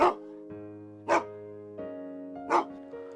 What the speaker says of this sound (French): En plus des aboiements du chien, que la chaleur avait vraisemblablement excité.